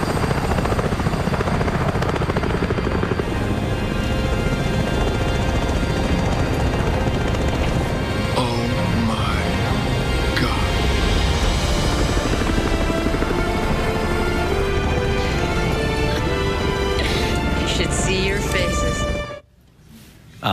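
Helicopter flying in a movie scene, its rotor and engine roaring loud and steady throughout under dialogue, then cutting off abruptly near the end.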